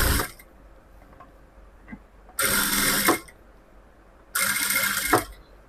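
A sewing machine stitches the shoulder seam and cross-piece edge of a layer-cut top in two separate bursts of about a second each, loud and close, with quiet pauses between runs.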